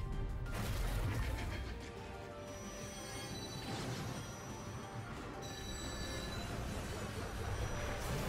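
Train wheels squeal and rail cars rumble through a Bayonetta 3 video game battle, a sustained metallic screech layered over low rolling rumble that holds steady for several seconds, with no talking.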